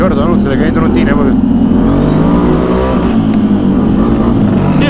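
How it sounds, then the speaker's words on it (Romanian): ATV engine revving hard against the rev limiter on a forest trail, a loud continuous buzzing drone with wavering pitch, under excited talk. "E aud blocări de-alea nenorocite, limitarea aia."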